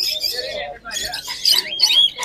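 Birds at a Sunday pet market chirp and squawk close by in quick overlapping calls, mixed with the busy murmur of people talking.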